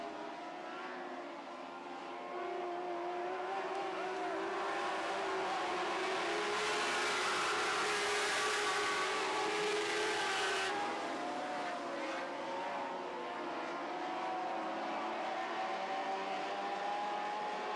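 Lightning sprint race cars roar around a racing track in a feature event, their engines a continuous loud drone that swells as the pack passes and then holds steady, with a commentator talking over it.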